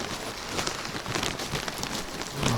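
Rain falls steadily at a car dismantling yard as a dense, even hiss with faint crackling droplets throughout and no voices.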